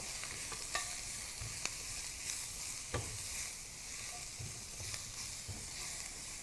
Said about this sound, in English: while I'm stirring it